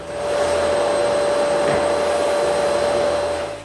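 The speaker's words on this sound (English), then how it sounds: "Then I vacuum the ceiling for both sections." A vacuum cleaner is used on the ceiling of a newly built woodworking shop with a mezzanine. It gives a steady, close, loud whine that ramps up, holds, and winds down at the end.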